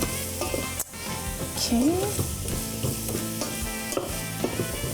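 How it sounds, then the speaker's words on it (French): Tofu, onions, carrot and garlic with smoked paprika sizzle and crackle steadily in a hot pan while being stirred, with a brief clatter of a utensil and a single short spoken word. "je veux caraméliser un petit peu les oignons, la carotte, l'ail et je veux quand même griller les"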